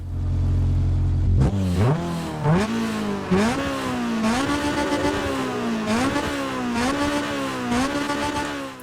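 A maxed-out Mitsubishi Evo in the Need for Speed Underground 2 remaster, its engine revving hard through repeated climbing gear pulls with shift dips, loud and continuous with no talk over it.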